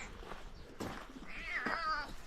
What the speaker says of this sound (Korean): 얘는 길냥이거든요.